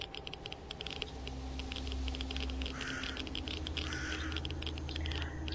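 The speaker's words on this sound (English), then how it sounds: "I don't even know if you can hear this keyboard clicking either." Clicking on a computer keyboard during typing, rapid irregular keystrokes close to the microphone over a faint background hum, with short bursts of clatter throughout.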